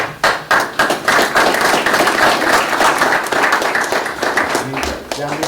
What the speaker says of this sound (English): So I'd like to give him a round of applause, Mr. Derek Hill.